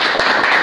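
Audience applause at a devotional music program for Ashadhi Ekadashi, steady dense clapping filling the whole short moment without pause.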